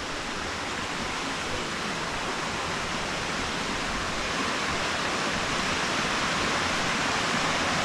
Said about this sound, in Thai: ตรงนี้น้ำตกก็สวย